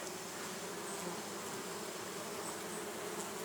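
A dense, steady hum of many honeybees buzzing in flight, continuous and even throughout, with no voices.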